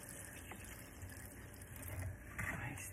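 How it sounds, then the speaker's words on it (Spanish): Water poured into a pot of red chicken pozole, a soft steady pouring wash under a low hum, continuous and fairly faint throughout. "Le vamos a agregar un poco de agua de esta,"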